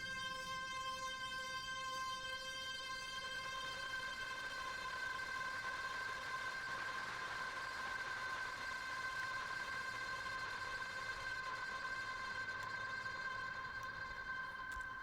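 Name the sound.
PS3 synth played through chorus pedal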